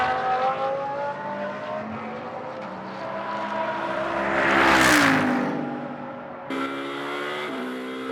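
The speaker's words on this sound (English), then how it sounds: "that's the Rinaldi Ferrari out there on track now" Green number 33 Rinaldi Ferrari GT race car in Blancpain Sprint Series free practice in Moscow, its engine note rising loud and close as it passes by, dropping in pitch, then a new engine tone cutting in near the end.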